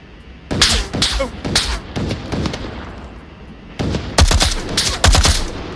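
Several bursts of AKM rifle fire on full auto in the VR game Onward, sharp cracks clustered in short rattling strings, loud and close, with a quieter stretch between the first and last volleys.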